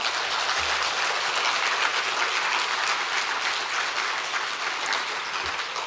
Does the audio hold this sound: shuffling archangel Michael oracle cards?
no